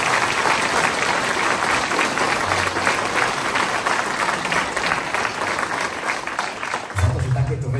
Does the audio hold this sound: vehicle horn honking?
no